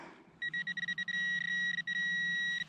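A metal detector gives a high electronic tone while sweeping a farm field for relics, a choppy run of short beeps that merges into longer sustained tones, clear and close with no talking.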